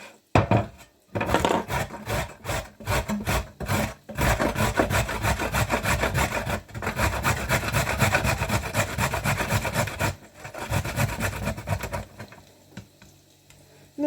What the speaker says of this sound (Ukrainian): Наливаємо трішки олійки і тремо морковку.